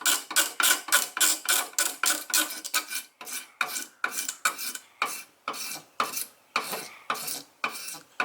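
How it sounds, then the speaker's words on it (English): Rhythmic rasping strokes of a blade shaving old gasket material off a Honda minibike engine case, about fifteen close, even scrapes in a steady back-and-forth rhythm with no talking. "Kind of just shaving that gasket."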